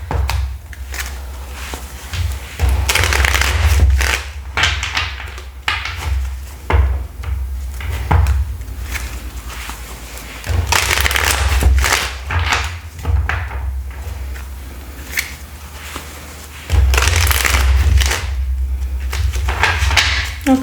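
Bursts of papery shuffling and riffling of tarot cards, close and fairly loud, repeated in several rounds with quieter pauses between them.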